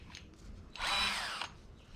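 A power drill whirs loudly for under a second, a short high-pitched burst close by, with quiet handling noise around it.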